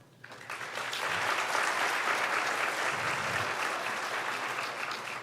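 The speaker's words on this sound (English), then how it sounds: "Please give a round of applause to WBGSU for streaming this event" Conference audience at a lunchtime keynote event bursts into sustained applause, a dense steady wash of many hands clapping that swells quickly and holds loud for several seconds before easing slightly.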